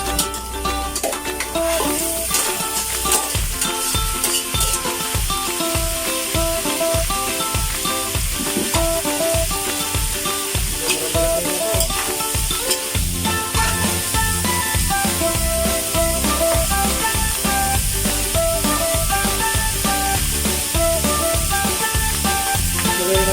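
Pork apritada sizzles loudly and steadily in a pan as liquid is added, a continuous bright hiss with occasional scraping stirs, while rhythmic music plays underneath.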